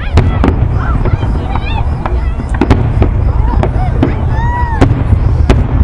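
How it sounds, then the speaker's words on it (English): A Fourth of July fireworks show closing out the day bursts repeatedly in sharp, crackling pops and whistling rockets over a steady loud crowd rumble, with people talking nearby. "Fireworks show to close out a day."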